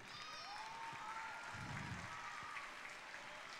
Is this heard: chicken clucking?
no